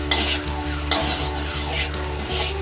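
Bombay duck gravy with cumin-coriander powder being stir-fried in plenty of oil: a steady close sizzle broken by rhythmic scraping strokes of a spatula against the pan, with no talking.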